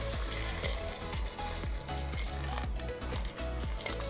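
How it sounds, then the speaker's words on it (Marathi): Hot water goes into a sizzling Maharashtrian chicken rassa curry masala, producing a dense, steady hiss and bubbling that stays loud throughout, with rhythmic background music underneath. "हे गरम करून घेतलेलं पाणी ह्यामध्ये घालायचं"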